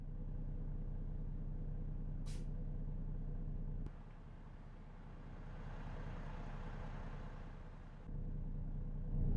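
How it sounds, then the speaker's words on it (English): A loud truck engine in a driving video game, American Truck Simulator style, gives a steady heavy rumble and idle drone that drops in level midway and then returns. "This truck just must be very loud."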